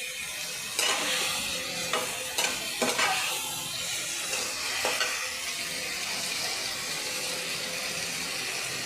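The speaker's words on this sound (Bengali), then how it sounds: "তারপর এখানে আমি মটরশুঁটি দিয়ে দিচ্ছি। মটরশুঁটি আলু একসঙ্গে দিয়ে দিচ্ছি।" Green peas and boiled potatoes land in hot oil with fried spice paste and are stirred, giving a loud, steady sizzle with several sharp scraping knocks of the spoon early on.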